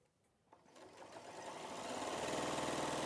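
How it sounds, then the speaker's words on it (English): A sewing machine stitching a quilt seam starts quietly and spins up to a steady, rapid mechanical whir that grows louder and holds, close to the listener. "To sew this together, don't forget to reverse stitch at one end."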